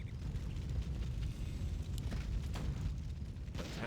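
Warcraft III battle with a Human mortar team and Blizzard spell pounding enemy lines, dense continuous rumble of explosions and crackling impacts at steady loudness, with a few sharper bursts near the end.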